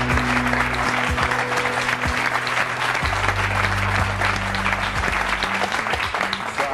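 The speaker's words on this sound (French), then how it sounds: "Je vous demande tout de suite d'applaudir l'invité surprise de Jean-Pierre Foucault." A television studio audience bursts into sustained, loud applause welcoming a surprise guest, with steady dense clapping and a low musical tone running underneath.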